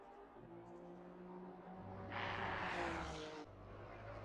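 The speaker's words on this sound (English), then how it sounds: "He's doing donuts after the race." A race car engine revs and roars while doing donuts after an ACC race, swelling louder for about a second mid-clip over a steady low drone, then dropping back.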